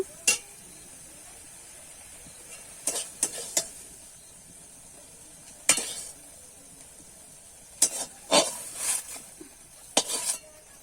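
Spatula scrapes and clanks against a wok come in scattered bursts over a faint, steady sizzle of prawns frying.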